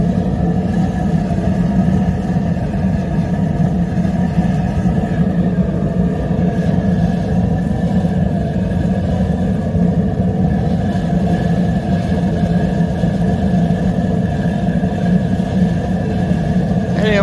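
Waste oil heater with its burn bowl burner running, a loud continuous low rumbling roar with a steady hum, close and unbroken for the whole stretch, no one speaking.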